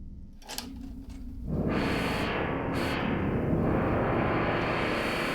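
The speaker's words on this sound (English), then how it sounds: "How about a white noise sweep now?" A loud, steady hiss of white noise swells in and keeps going, its brightness shifting over a few seconds, with a slight metallic edge from an Erica Synths Black Spring reverb.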